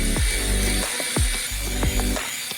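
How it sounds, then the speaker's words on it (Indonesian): An electric mixer whips a thick cream sauce with basil and salt, its loud close motor whirring continuously with regular dipping surges about every two-thirds of a second, and no talking. "Yang tersisa hanyalah mengocok semua ini dengan mixer hingga menjadi krim yang sangat kental."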